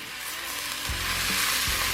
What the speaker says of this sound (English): We're going to get them cooked down a little bit with that sausage and that sausage fat and bacon fat.